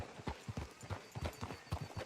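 Horse hooves clop in Red Dead Redemption II at a steady walking rhythm, each hoof strike distinct and fairly close, with faint background ambience around the hoofbeats.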